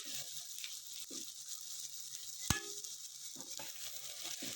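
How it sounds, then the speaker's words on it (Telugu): Fish curry base frying in a pan after salt goes in, with a soft, steady sizzle under quiet scraping stirs and one sharp clink of the utensil midway, all faint and without talk. "ఫస్ట్ మనం సాల్ట్ వేసుకున్న తర్వాత మొత్తం ఫ్రై చేసుకోండి."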